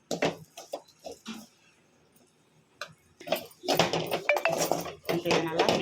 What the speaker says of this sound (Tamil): இப்போ இதை நல்லா மிக்ஸ் பண்ணி வச்சுக்கலாம்